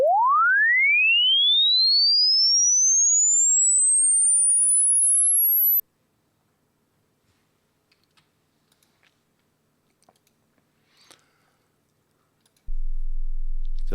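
A pure test tone sweeps smoothly and continuously from low to very high pitch over about six seconds, loud and alone, followed by near silence with faint clicks and then a low steady hum.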